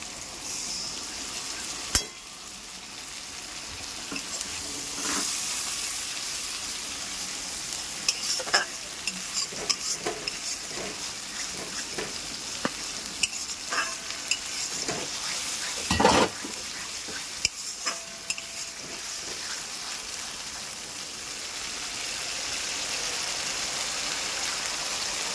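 Ginger paste mixed with chili powder and turmeric frying and being stirred into onions in a home kitchen pan, a steady sizzle throughout with repeated scraping stirs and occasional louder clatters.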